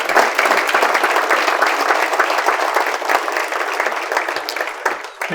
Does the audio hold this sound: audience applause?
yes